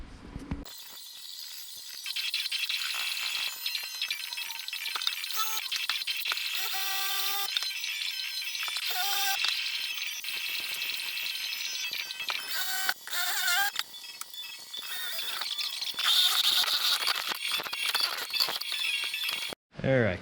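Drill boring a hole for a cold air intake on a Lexus IS250, a harsh, high-pitched whine running almost continuously with brief stops and changes in pitch, very close and loud.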